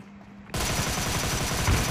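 Rapid automatic gunfire in a mobile shooter game starts abruptly after a quiet moment, then continues as a loud, dense, steady rattle of close shots.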